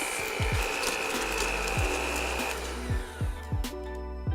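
A motorized mixer whirs steadily while blending milk and sugar for rose ice cream, with a loud continuous drone broken by repeated low knocks and thumps. No voices are heard.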